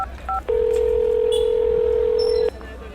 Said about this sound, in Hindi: अथर ने फिर फोन मिलाया।